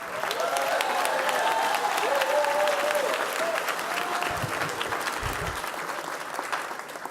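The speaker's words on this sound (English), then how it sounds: "let's give another round of applause to Maria Elena Durazo" An audience at a South L.A. mayoral candidates forum gives sustained, fairly loud applause, with a speaker's voice over the crowd before the clapping tapers off.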